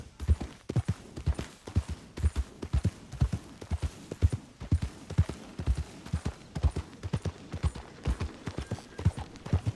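Donkeys' hooves clip-clop steadily in a rhythmic trot in Red Dead Redemption 2, close and clear, with faint game ambience behind.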